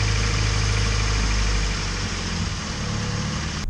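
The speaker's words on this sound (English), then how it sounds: "when I initially started the car up, it ran terribly." A third-generation Honda Prelude's B18 engine runs rough and close, with a steady, heavy idling rumble and vibration that holds throughout and eases slightly partway through.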